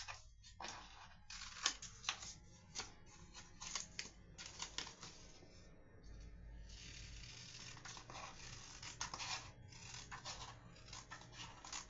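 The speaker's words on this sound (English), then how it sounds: "So now I'm going to trim off the edge, the white there and the white there." Scissors snip along a paper envelope, trimming off its white edges in a series of faint, close, crisp cutting and rustling sounds with irregular rhythm.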